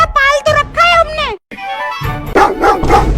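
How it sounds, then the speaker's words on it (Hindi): A house dog gives a run of sharp, high yips and barks up close, followed by loud talking. "घर में एक कुत्ता पाल तो रखा है हमने"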